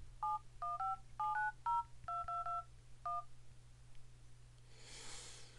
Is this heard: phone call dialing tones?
yes